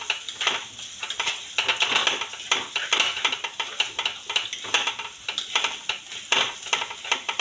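Chopped garlic and onion frying in a pan while being stirred, a steady close sizzle broken by rhythmic scraping strokes, with no voices.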